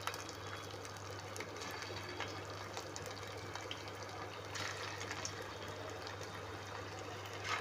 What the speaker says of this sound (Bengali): এবার দেখুন তেলটা মোটামুটি গরম হয়ে গেছে, আমি এক এক করে বড়াগুলোকে দিয়ে দেবো তেলের মধ্যে।